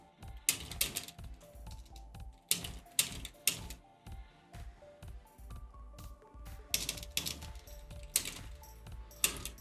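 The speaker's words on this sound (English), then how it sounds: "Sorry if I'm quiet, I'm just typing." Someone types on a computer keyboard in uneven bursts of sharp clacks, fairly close, with short pauses between runs. A quiet tonal hum runs faintly underneath.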